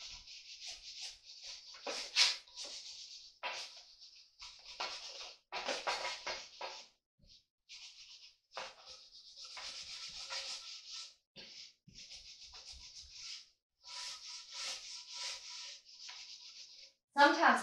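A stiff brush scrubs rust from the gasket groove of a cast iron wood stove in repeated short, raspy strokes with brief pauses between them, faint and close.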